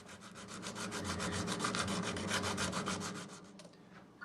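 Steady, even strokes of 80 grit sandpaper shaping a guitar nut, a close raspy back-and-forth rubbing with a quick regular rhythm, heard alone.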